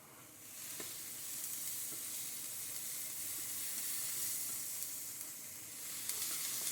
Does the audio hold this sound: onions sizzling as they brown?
yes